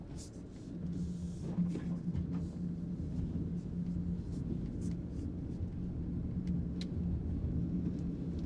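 Land Rover Defender 90 Trophy in a video game, driving through deep snow in automatic mode: a steady, low engine drone and rumble, continuous and moderately loud, with faint crunching ticks on top.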